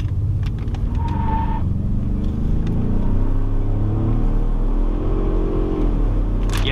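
A Ford F-150 pickup truck engine rumbles and climbs in pitch as it accelerates while towing a trailer, with low road noise and a brief whine early on, close and loud.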